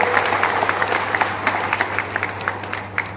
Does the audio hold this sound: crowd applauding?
yes